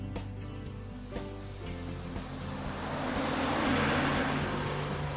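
A city bus driving, a low engine drone with rumbling road noise that swells louder midway as the vehicle moves, steady and close, no voices.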